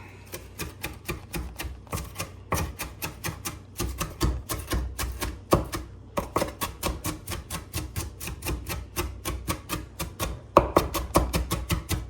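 Rapid, rhythmic knife chopping of herbs for tabbouleh on a cutting board in quick bursts with brief pauses, close and crisp, no talking.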